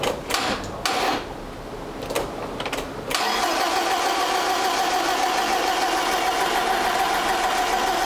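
Barn-find BMW E30 with a dodgy starter motor: the starter cranks in several uneven bursts with short pauses, then the engine catches at about three seconds and settles into a steady, even running note.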